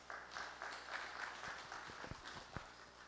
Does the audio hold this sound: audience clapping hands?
yes